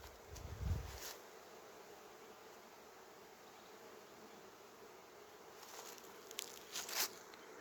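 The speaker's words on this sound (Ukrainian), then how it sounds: "Це бджоли злітають, це не такий активний лід, просто вони покидають корпуси" A faint, steady buzz of many honey bees leaving their hive boxes fills the air, with a low thump at the start and a few closer crackles and taps near the end.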